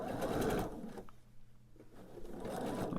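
A sewing machine stitches quilt-top rows together in close, steady bursts, briefly pausing in the middle before running again. There is no talking.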